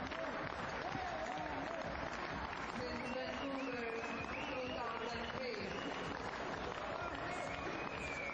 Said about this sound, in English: quite a lot of applause for Nahla Ramadan